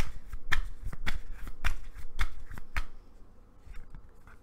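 Tarot cards shuffled and drawn from a deck during a love reading, a quick run of crisp riffling flicks and snaps at close range, then a quieter pause.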